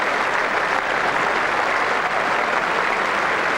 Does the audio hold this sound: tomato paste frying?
no